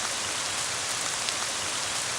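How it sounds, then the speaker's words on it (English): Rain pouring down inside a room in the game Ib: a dense, even hiss of falling water that holds steady and fills the whole short stretch, with no voices. "it starts raining in the room."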